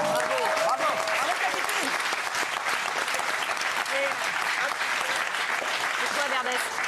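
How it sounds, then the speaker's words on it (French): A television studio audience applauds with a continuous, fairly loud wash of clapping, while people talk over it throughout. "On est fair play, on applaudit quand même."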